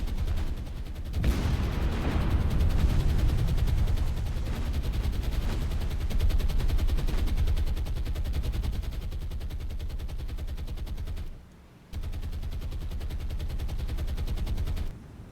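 Rockets fired from carrier-launched aircraft in the naval combat game War on the Sea: a loud, sustained barrage of blasts and rapid impacts. The barrage cuts out briefly near the end, then resumes with no talking.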